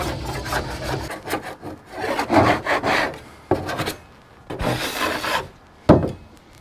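Paint being scraped off a severely damaged car body over plastic sheeting laid on the ground: repeated rough rasping strokes in uneven bursts, loud and close, with short pauses between passes and no talking.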